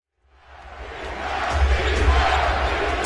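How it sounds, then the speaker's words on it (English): Basketball arena crowd roaring to distract a free-throw shooter: noise swells in from silence and builds to a sustained, loud wash of many voices, shouts and jeers, holding steady as a dense roar. "Crowd trying to distract DeAndre Ayton"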